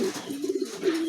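A male Spanish pigeon, a big new bird of about 8 to 9 kilos, gives a run of low, throaty coos close by, rolling in soft repeated pulses with no talking.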